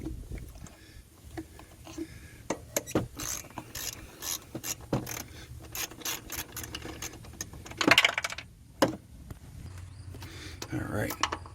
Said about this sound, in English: we're going to just need our socket wrench here with a 10mm on there